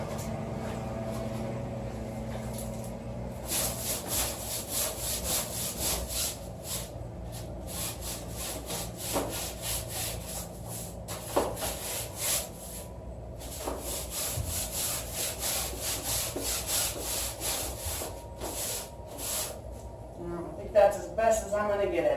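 Regular broom scrubbing an exterior window, sustained bristly scraping strokes up close in bursts with short pauses, a few knocks mixed in.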